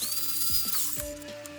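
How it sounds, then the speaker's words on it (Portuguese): Power sander working on oily steel stock to knock off burrs before welding: a brief, close, high whine that dips in pitch, with gritty scraping and a few knocks beneath it. "Aí eu vou fazer um acabamento rápido, né? Só um lixamento aí, né? Pra tirar as rebarbas"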